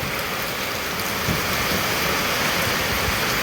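Heavy rain from a storm in Laos pours in a steady, dense roar, with gusts of wind blowing through it. No voices are heard.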